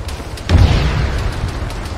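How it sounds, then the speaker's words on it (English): A single heavy explosion in the military video game Arma 3 bursts in suddenly and close, then a low rumble trails off over steady background noise. "I heard an explosion and now the engines die out"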